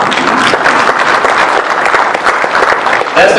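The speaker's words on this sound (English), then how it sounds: "give them a round of applause" An audience at a school safety town hall applauds steadily, a dense and sustained wash of many hands clapping with no break, loud and close throughout.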